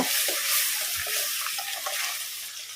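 Finely chopped ginger and garlic frying in a pan, a steady close hiss and sizzle with light stirring clinks throughout, no talking.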